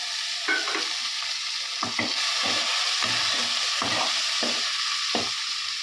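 Tomatoes added to a hot pan for tilapia curry hiss with a continuous sizzle, broken by repeated scraping stirs of a spatula at an uneven rhythm, near and fairly loud.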